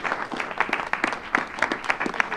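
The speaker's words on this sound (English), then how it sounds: "I want to have a warm welcome applause to introduce Trish Christ as our executive director" Clapping from a community meeting audience rings out close and lively, a mid-sized group of distinct hand claps in quick, uneven succession welcoming a new executive director.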